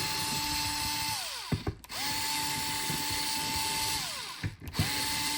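A power drill whirs while backing T8 screws out of a Dyson Gen5 vacuum, two close, steady bursts, each winding down with a falling pitch, followed by a short clatter.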